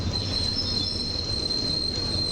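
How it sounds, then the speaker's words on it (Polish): An EU44 Husarz electric locomotive pulling into a station platform, with a steady high-pitched wheel squeal over a constant low rumble of rolling rail cars, close and continuous. "Wjeżdża Husarz, czyli lokomotywa EU44004"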